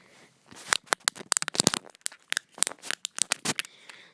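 Rapid run of crisp plastic clicks from the five buttons on a fidget cube toy, pressed close up in quick irregular bursts with no talking.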